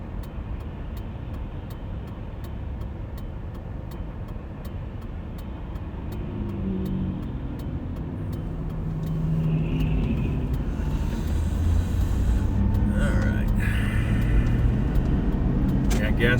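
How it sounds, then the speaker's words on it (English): Road traffic heard from inside a car on the move, with a steady low engine and road rumble that grows louder toward the end. A voice speaks over it. "I mean, this is a lot of traffic."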